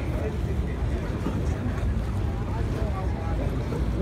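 Motorboats run on Lake Ontario near Toronto on an evening, a steady broad engine-and-water rumble mixed with wind buffeting the microphone, continuous and fairly loud with no clear speech.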